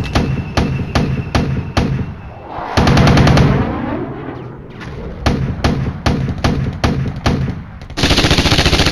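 Tank cannon and machine gun fire in the modern-warfare video game Flashpoint Campaigns, loud rhythmic gunshot bursts repeating at a steady pace with a heavier rumbling barrage partway through, close and with no talking.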